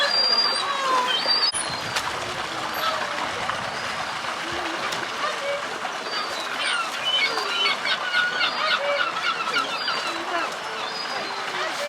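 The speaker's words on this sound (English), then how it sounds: "I know what you're squawking for, Seagull" Seagulls squawk at a seal sanctuary in Cornwall, repeated shrill calls scattered over the whole stretch against a watery outdoor background, with a person talking at times.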